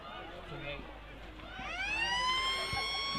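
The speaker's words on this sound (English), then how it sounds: "As the siren goes to signal half-time" A loud sports ground siren signalling half-time at a football semi-final at Freeling Oval rises and wails over crowd noise and commentary, sounding out clearly in the second half of the clip.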